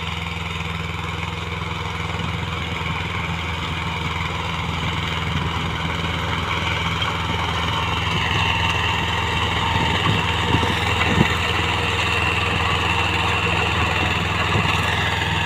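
A Mahindra Jivo 245 DI tractor running with a rotavator in a sugarcane field, its diesel engine droning steadily and fairly loud, rising slightly in the latter half with faint rattling.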